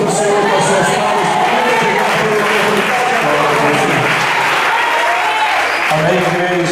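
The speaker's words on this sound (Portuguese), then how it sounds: "Louva o Senhor com as suas palmas." A church congregation claps together in steady, dense applause that fills the room for several seconds, with some cheering and voices mixed in.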